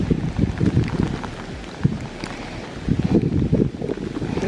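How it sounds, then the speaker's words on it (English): Hail falling outdoors in the woods during a New Jersey deer bow hunt, a dense, steady patter of icy strikes mixed with gusting wind buffeting the microphone. "there's some sort of hail going on out here"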